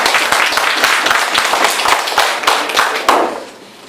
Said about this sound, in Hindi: तो शेर दिल बांग्लादेशी लोगों के लिए जरा ताली बजाएंगे